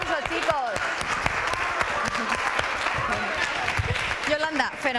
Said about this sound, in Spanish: Un aplauso, chicos.